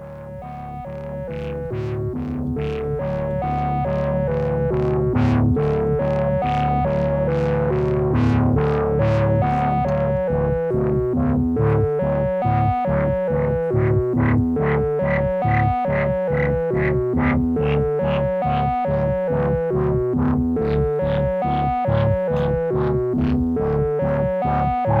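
Pittsburgh Taiga synthesizer patch using ring modulation with a self-resonating filter, a loud, continuous, buzzy tone played as a shifting sequence of rhythmic pulsing notes with no talking.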